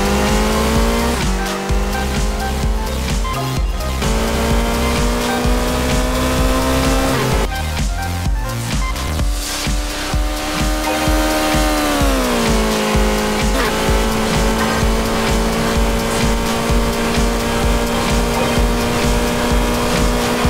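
A Ferrari race car driving fast, its engine droning loud and continuous with shifting pitch and bursts of tire squeal, close and unbroken throughout.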